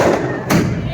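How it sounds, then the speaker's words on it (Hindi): A single deep thud of a firework burst rings out midway over a steady wash of crowd noise and background chatter at a Maithili wedding procession. "बहुत बढ़िया सुंदर आतिशबाजी।"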